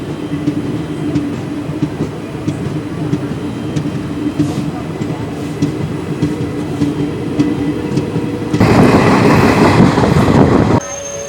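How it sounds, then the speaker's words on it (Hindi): Indian Railway train running through the Saranda jungle, a continuous rumble of wheels with rhythmic clatter, heard from on board, then a sudden louder, harsher rush near the end before it drops back. "भारतीय रेल इस रूट को फॉलो करते हुए अपने अगले स्टेशन की ओर"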